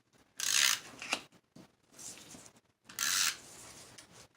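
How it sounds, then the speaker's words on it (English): A tape runner drawn around the edge of a paper ornament gives soft, close scratchy strokes in three main passes, with small clicks and quiet pauses between them. "I'm going to take our tape runner and run it around the edge"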